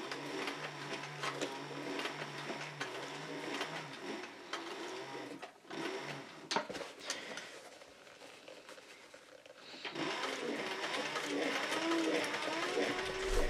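A sewing machine runs around a cloth-lined leather belt pouch with a fast, close mechanical whirring chatter, pausing briefly midway before starting again steadily, with faint speech in the background.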